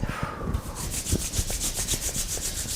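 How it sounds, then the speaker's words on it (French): Hands rubbing over bare skin during a self-massage, a soft continuous friction close by with a few light pats, and no talking. "On frotte à nouveau"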